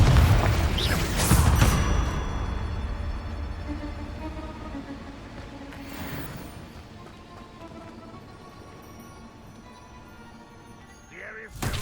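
Confringo blasting spell going off in Hogwarts Legacy, a loud booming burst near the start followed by a fading rumble and a later lighter blast, with game voices talking.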